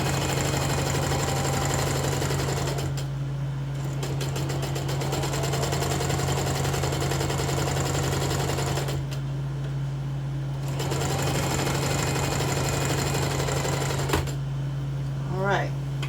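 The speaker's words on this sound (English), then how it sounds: "Sewing machine actually sews really good" A home sewing machine stitches a pants seam, sewn from a Simplicity 1622 pattern, as a steady close whirring run that stops briefly three times, over a constant low hum.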